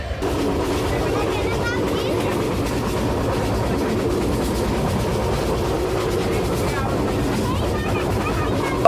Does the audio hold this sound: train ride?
yes